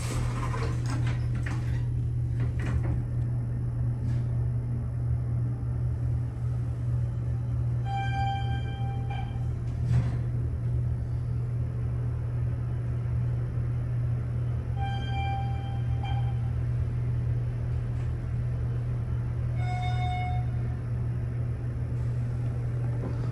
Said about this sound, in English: There goes the other elevator.